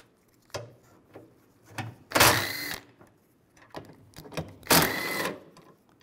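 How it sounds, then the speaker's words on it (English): A 13 mm socket wrench ratchets bolts off the sensor plate of a 2007-2013 Chevrolet Silverado, with sharp clicks and two longer loud bursts of rapid ratcheting up close. "Take these bolts out."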